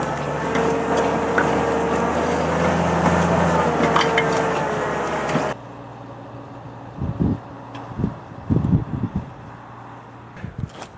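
A 200 hp tractor pulling a three-metre roller through a wet field, a steady loud engine drone for several seconds that cuts off, followed by quieter thuds and knocks.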